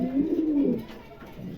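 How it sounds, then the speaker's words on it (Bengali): Pouter pigeons, yellow and blue birds kept for sale, coo in a low throaty rolling call, close and fairly loud, with a second softer coo after a short pause. "এখানে আপনার 2 জোড়া হলুদ পুটার আছে, 1 জোড়া হচ্ছে গিয়ে ব্লু পুটার আছে"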